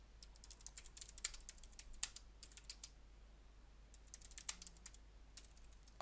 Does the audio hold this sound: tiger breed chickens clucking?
no